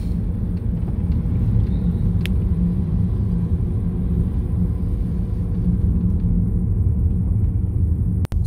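A truck rumbles along in city traffic in Dakar, a steady low engine drone close by with distant road noise and a brief sharp click near the end.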